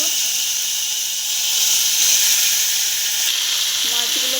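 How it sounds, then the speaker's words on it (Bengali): Fish hitting hot oil for a Bengali-style fish curry give a loud, continuous sizzling hiss that stays steady throughout, with no speech. "মাছগুলো দিয়ে দিচ্ছি সব।"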